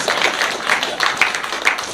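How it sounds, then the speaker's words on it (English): A seated audience at a lecture claps, a brisk, fairly close patter of many hands with small swells, heard alone without speech. "Now you can clap on this one."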